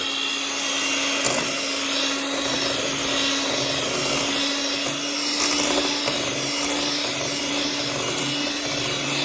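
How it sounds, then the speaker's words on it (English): An electric mixer creams butter and sugar for a giant holiday cookie, giving a steady, close motor whir with a constant hum that runs the whole time, with no one speaking. "Now we're going to bring in our friend, the mixer, and we are going to cream the butter and sugar"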